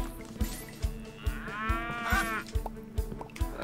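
Cows moo in the Lemon Cake farm game, one drawn-out low moo rising and falling mid-clip over a steady rhythmic thumping beat, fairly faint.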